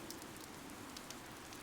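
Soft, steady rain patters in the video game Fire Emblem: Three Houses, a quiet continuous hiss of drops with occasional faint splashes and no other sounds.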